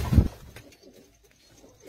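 Large paired pigeons, housed in a loft with their chicks, let out one brief, fairly loud coo at the start before fading into near silence.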